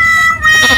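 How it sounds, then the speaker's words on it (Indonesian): A goat bleats loudly and close by at a lakeside picnic spot at Danau Cipondoh, one drawn-out nasal cry lasting under a second. "Bukan, itu kambing."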